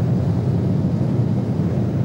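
Loud, steady roar of a cargo plane's heavy engines at full power during takeoff, a dense low rumble with no pauses or voices.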